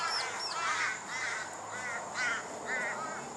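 Several crows caw in short repeated bursts at mid distance, harsh calls coming in quick succession as they chase a hawk along a beach.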